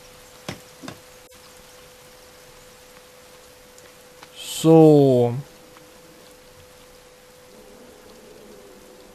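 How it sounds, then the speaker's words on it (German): Steady rain falls in the survival video game The Forest, a soft continuous hiss running through the whole stretch, with a few clicks early on and a brief spoken word and a tonal sound in the middle. "Oh, es regnet"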